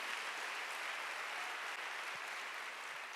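At a Wednesday church service, a congregation claps together in a dense, even wash of hands that holds steady without pause for a few seconds.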